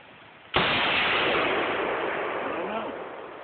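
A single loud shot from a WWII Bren gun fired outdoors, with a sharp crack and a long rolling echo that slowly fades away. No other shots follow.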